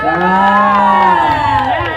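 A loud crowd screams and cheers continuously for two young male singers at an expo stage show, high shrieks and whoops layered together close up.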